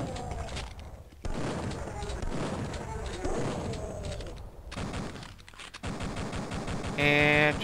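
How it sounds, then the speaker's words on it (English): Pistol fire from the video game Duke Nukem 3D, rapid repeated shots in a busy, continuous game soundscape with voice talking over it and a burst of electronic tones near the end. "And just keep spamming the pistol."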